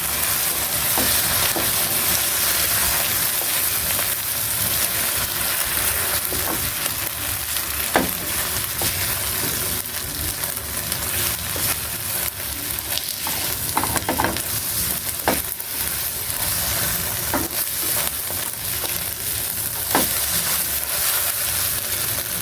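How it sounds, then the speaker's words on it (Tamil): Egg mixture with pepper frying in a pan, a continuous close sizzle broken by frequent clicks and scrapes of stirring, with no voices. "கொஞ்சம் பெப்பர் மட்டும் போட்டு ரொம்ப ஃப்ரை பண்ணணும்னு அவசியம் இல்லை கொஞ்சம் வெந்தால் போதும்"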